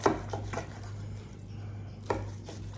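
A knife cuts through a smoked brisket point on a board, a few soft chopping strokes clustered at the start and another near the end, close and fairly quiet over a steady low hum.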